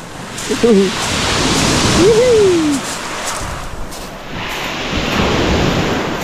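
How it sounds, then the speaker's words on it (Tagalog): Strong sea waves crash and surge in a loud, continuous roar with swelling pulses, while a voice whoops excitedly close by. "Grabe. Ang lakas ng alon."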